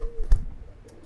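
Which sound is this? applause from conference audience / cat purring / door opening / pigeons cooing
pigeons cooing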